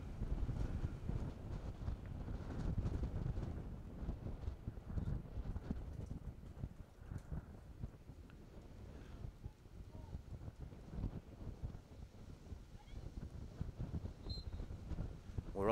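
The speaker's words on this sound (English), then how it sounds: "And it really has got extremely windy." Strong, gusty wind buffets an outdoor women's Premier Division field hockey match between Beeston and Clifton Robinsons, a steady broadband roar with irregular thumps of wind against the microphone throughout.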